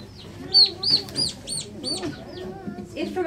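A backyard chicken peeps in high, repeated chirps while someone holds it. The calls come in quick bursts, close and clear, with quiet handling noise in between.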